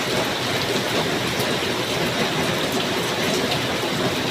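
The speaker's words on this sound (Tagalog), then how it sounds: "Grabe, lakas ng ulan." Heavy morning rain pours steadily and loudly in a flooding street, a dense continuous hiss and patter with no pauses and no voices.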